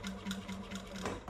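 A sewing machine topstitches along a short placket edge, a brief, continuous close-up whir of fast needle strokes with a steady motor hum underneath.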